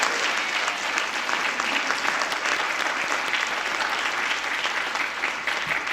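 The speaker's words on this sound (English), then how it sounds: "could we get another round of applause for the 2025 National Honor Society inductees?" Full, steady applause from a large crowd honoring the 2025 National Honor Society inductees at a high school induction ceremony, dense and even for the whole stretch with no talk over it.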